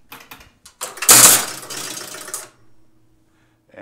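A Gottlieb High Hand pinball machine starts a game with a short burst of mechanical clatter and buzzing rattles, followed by a faint low electrical hum, close and without talk.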